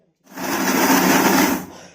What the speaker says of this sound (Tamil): இப்போ மூடி போட்டு இதை அரைச்சின்னு வந்துடலாம்.